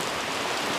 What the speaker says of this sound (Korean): 비가 계속 엄청나게 오고 있습니다